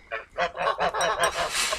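Several geese honk in a loose, overlapping series of calls close by on a cold autumn homestead, with no talking.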